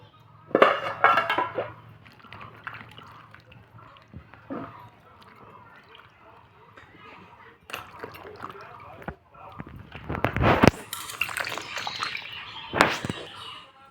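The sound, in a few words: washing eggplant, potato and tomato in water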